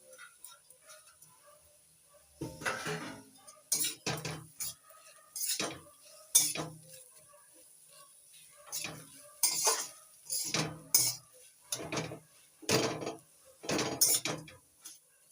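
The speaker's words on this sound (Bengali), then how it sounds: "নাড়াচাড়া করে ভালো করে মিশিয়ে নিচ্ছি" A spoon scrapes and clinks against a pan while cauliflower filling is stirred and mixed, giving a run of separate, fairly close metallic scrapes with short pauses between strokes and no talking.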